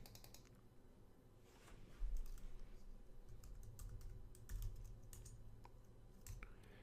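A passphrase is typed on a computer keyboard, a quiet run of quick, irregular key clicks with a few heavier taps and short pauses between bursts.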